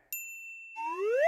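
Bell ding sound effect: a single bright metallic ding with a clear ringing tone, followed by rising whooshing tones sweeping upward, loud and close with no voices.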